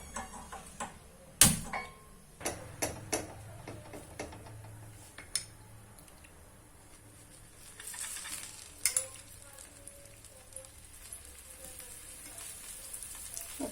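A coriander paratha cooks on a hot tawa griddle with a soft, steady sizzle, punctuated by sharp clicks and knocks from handling the pan.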